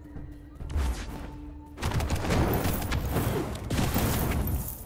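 A burst of loud, crackling blasts and rumbling booms erupts in the video game Wizard of Legend 2, then a second heavy burst follows, dense and close with no voices.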